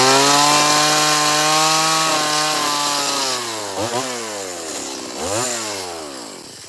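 A chainsaw carves a six-foot wooden bear, its motor buzzing loudly and close, dipping and surging in pitch as the blade bites into the wood, with no voices over it.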